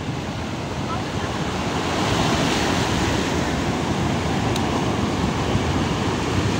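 Surf at the beach in Morro Branco rolls in as a constant broad wash of breaking waves, loud and close, with wind buffeting the microphone throughout.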